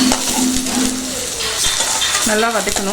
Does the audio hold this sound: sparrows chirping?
no